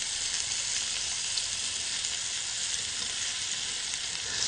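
Pieces of New Zealand lamb browning in a frying pan with oil, a steady bright sizzle that holds close and even throughout, with no talk.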